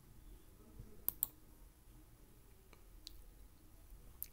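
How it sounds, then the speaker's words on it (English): A few sharp computer mouse clicks, two close together near the start and then scattered single ones, sound faint against a quiet room with no talking. "I will click on mark complete."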